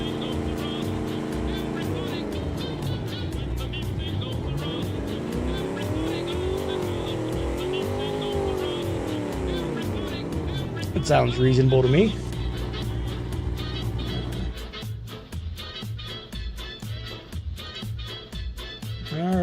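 Hot rod car engine in the BeamNG driving game: a continuous revving engine with rising and falling pitch sweeps and a sharp high whine mid-way, heard under intermittent talk.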